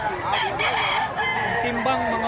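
A Mill Sims bloodline bullstag rooster crows close by in one loud, drawn-out call with a rising and wavering tone, set against a noisy rural backdrop in Mantalungon, Barili, Cebu.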